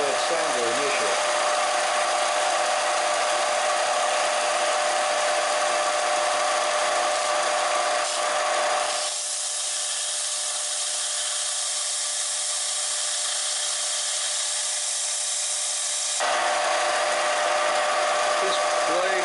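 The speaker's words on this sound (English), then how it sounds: "I'm going to see if I can work this blade better in this flatbed sander initially." A flatbed sander grinds the steel blade of a kitchen knife in a loud, continuous abrasive roar that dips in tone midway as the pressure changes, then returns to a harsher grind.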